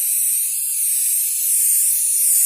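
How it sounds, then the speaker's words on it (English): Protectant sprays in a steady, close, high hiss onto the fabric convertible top of a Mitsubishi Eclipse, continuing without pause and with no other sound present. "You just spray all over till it's like saturated"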